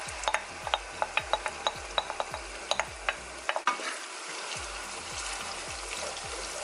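A spoon scraping and knocking rhythmically in a pot of tomatoes and jollof rice base, about a dozen distinct strokes over a faint sizzle, a brief pause, then a steadier, hissing simmer.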